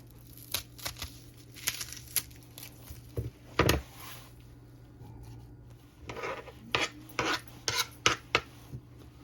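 Knife chopping yellow onion on a board: a series of crisp, uneven cuts and scraping strokes, some in quick bursts, up close with brief pauses between, no talk.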